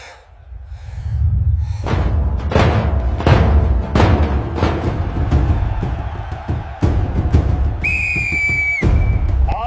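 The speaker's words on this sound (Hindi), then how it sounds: "रेफरी काका, सीटी बजाइए।" A referee's shrill whistle blast sounds near the end of a wrestling bout, loud and sustained over heavy thuds, crowd noise and dramatic rumbling booms.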